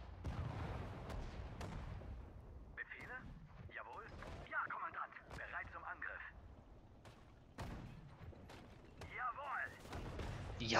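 Gunfire aimed at a Sherman tank in the World War II strategy game Sudden Strike 4, Battle of the Bulge, with scattered sharp shots and booms over a busy battle bed, voices sounding in the background.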